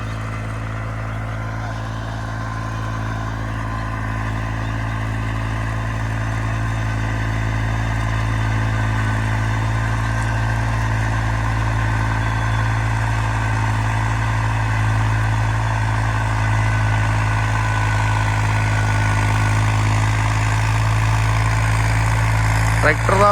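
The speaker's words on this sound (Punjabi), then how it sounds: "ਟਰੈਕਟਰ ਪੂਰਾ ਆਰਾਮ ਨਾਲ ਚੱਲ ਰਿਹਾ" A tractor engine drones steadily at close range while pulling a rotavator, a loud continuous low rumble that holds an even pace throughout.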